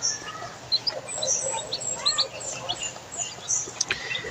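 Newly hatched chicks give high, thin chirps in scattered bursts, close and moderately loud over a low background hum.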